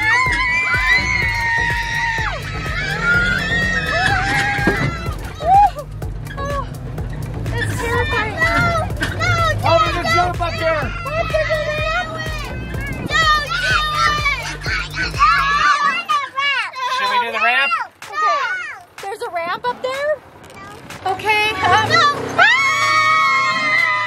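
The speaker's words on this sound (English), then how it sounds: "we're up in the mountains on a hill with lots of screaming kids" Outdoors on a mountain hill, a crowd of children screams, shrieks and shouts at play with constant chatter. High excited cries overlap continuously, and a low background rumble drops out partway through.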